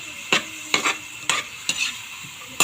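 Pork adobo being stirred as it fries in a pan, with five quick scraping strokes at uneven intervals over a faint sizzle, close and fairly quiet.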